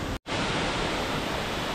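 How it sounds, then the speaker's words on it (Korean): Upper section of Guryong waterfall in the Sogeumgang valley of Odaesan, a loud, constant rushing roar of falling water heard up close, broken only by a split-second cut near the start. "구룡폭포 상부입니다."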